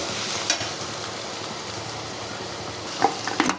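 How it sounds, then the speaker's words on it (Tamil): Ginger garlic paste sautéing in a pan for a prawn and banana flower thokku, giving a steady close sizzle with a few light utensil scrapes near the end. "நல்லா வதங்கட்டும் இஞ்சி பூண்டு வாசனை போகிற அளவுக்கு வதங்கட்டும்"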